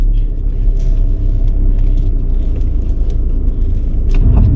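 A car rolls along a road, heard from inside as a loud, steady low engine and tyre rumble that continues throughout, with faint scattered clicks and rattles.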